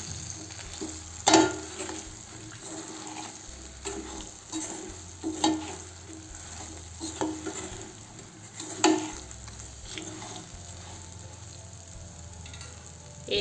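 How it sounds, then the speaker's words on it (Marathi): Fried soybeans stirred in an oily pan make a continuous low sizzle, punctuated by repeated scraping knocks of the spoon against the pan at a loose, irregular rhythm. "आता आपण सोयाबीन टाकून घेऊ, तळलेले आहे। आणि असं छान फिरवून घेऊ।"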